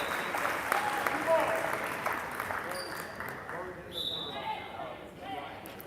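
Crowd at a girls' high school basketball game applauding an injured player, steady scattered clapping that gradually fades, with a commentator talking over it.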